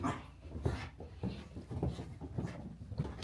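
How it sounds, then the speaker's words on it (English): Dogs in a nearly empty house during a move bark and whimper in short bursts, several yelps and whines repeating close by, with no talk over them. "The dogs are going mad."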